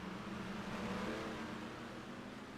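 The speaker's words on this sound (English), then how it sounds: "Pace car about to dive into the pit lane." Car engines drone steadily in a racing video game as the pace car heads for pit lane, a dense sustained roar with a faint rising tone and no talk.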